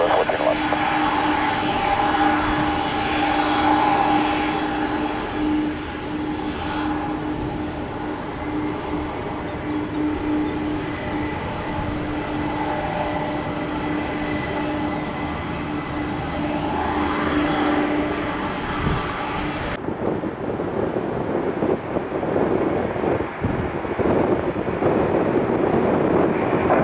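Southwest airliner taking off from runway 19 right at Tampa, a steady, loud jet roar with a droning engine tone holding for most of the stretch, then cutting to rougher wind-blown rumble, with radio chatter and voices mixed in.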